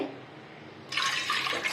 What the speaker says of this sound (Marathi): आपल्याला त्याच्यात तिप्पट म्हणजे तिप्पट चौपट पाणी घ्यायचं आहे सहा कप मी इथे